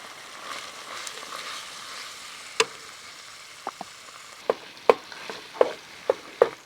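Butter and flour fry in a pan at a camp stove while beef stroganoff is cooked, giving a soft steady sizzle with several sharp clicks and scrapes of stirring toward the end; no talking.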